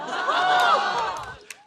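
Audience at a stand-up comedy show applauding and cheering, a dense sustained wash of clapping and crowd noise that gradually tapers off, with one sharp clap near the end.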